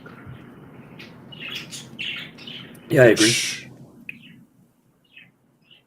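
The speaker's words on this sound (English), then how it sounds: "those are my parakeets" Pet parakeets chirping in short bursts at a moderate distance, under a steady indoor hum, while people talk nearby.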